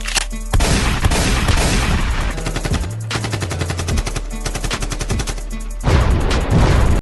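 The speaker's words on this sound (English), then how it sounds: "There like gunfire in the background?" Rapid bursts of automatic gunfire rattle loudly and continuously, with dense repeated shots and a few short breaks between volleys.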